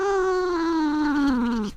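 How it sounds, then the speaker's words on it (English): A pet cat meows close into a microphone, one long drawn-out wavering meow lasting nearly two seconds, loud and clear, falling slightly in pitch before cutting off. "Oh, it's a cat. Oh, look at my cat."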